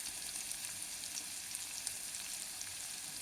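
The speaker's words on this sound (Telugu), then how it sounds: "తొందరగా నలుగుతుంది, ఉల్లిపాయలు వేగుతాయి తొందరగా" Onions sprinkled with salt fry in a pan for a taro (arvi) pulusu curry, giving a soft, even sizzle with light crackle. The sizzle stays low and steady throughout with no talking.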